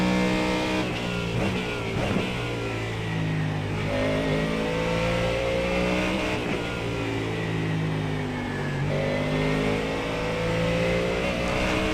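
Porsche GT3 race car engine in the iRacing sim at the Nürburgring GP circuit, a loud continuous high-revving drone with rising gear pulls and sharp shifts, steady and close throughout.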